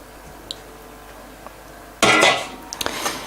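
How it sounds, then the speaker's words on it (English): Tap water splashes over a piece of fresh ginger root in a short burst of rushing water, followed by a few soft drips and clinks. "I'm just gonna give it a quick rinse"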